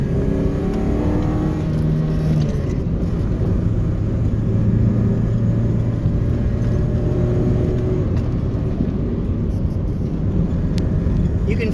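A Nissan 240SX drives with a constant, loud low engine drone and road rumble heard from inside the cabin, the engine pitch shifting slightly as it rounds corners, with talking over it.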